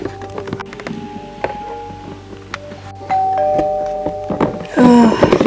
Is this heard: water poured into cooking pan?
no